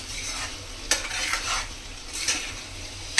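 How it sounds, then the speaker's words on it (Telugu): Keema curry is stirred in a sizzling pan, the spoon scraping and knocking the metal in several sharp strokes over a steady fry, close and clear with no talk. "ఇది మొత్తం ఒక్కసారి కలిపేసుకుని"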